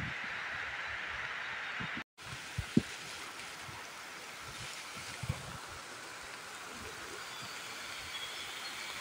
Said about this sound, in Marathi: जोरात असा पाऊस चालू आहे आपल्या पाठीमागे